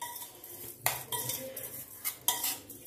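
A spoon stirs lemon juice into flattened rice (poha) in a bowl, giving a few soft scraping clinks with short pauses between strokes, close and fairly quiet.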